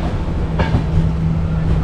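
The Uday Express, a Tamil Nadu business-class train, rolls along the rails with a loud, continuous rumble and steady low hum heard from inside the carriage, a faint clack passing midway.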